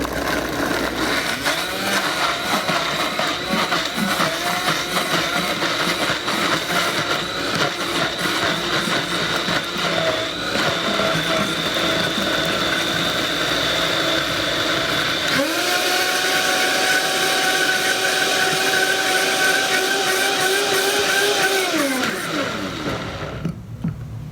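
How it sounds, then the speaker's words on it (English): A countertop blender whirs loudly and continuously while blending a lemony almond butter dip, its motor pitch rising and holding higher toward the end before spinning down, with no talk. "now we're gonna blend it up, make it smooth and creamy"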